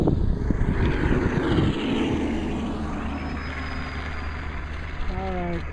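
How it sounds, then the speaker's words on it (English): Propeller warbird aircraft, including B-17 bombers, flying in to land at an airfield Independence Day show, a steady droning engine rumble with a rising, shifting tone as a plane approaches. "we have another aircraft making an approach, but the gear is not down"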